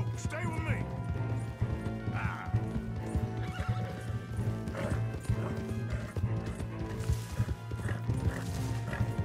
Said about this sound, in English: Come on, get on the horse!